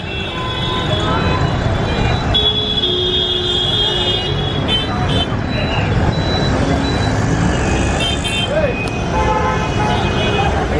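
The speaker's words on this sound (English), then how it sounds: "As you can see, the traffic's pretty full on here." Busy road traffic in Maharashtra, India: dense engine noise and repeated car and bus horn toots near and far, with people talking over the din.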